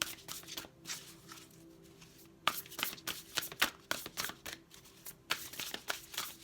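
Large, cumbersome tarot cards are shuffled by hand, giving quiet, repeated papery riffles and slaps in uneven bursts with no talk.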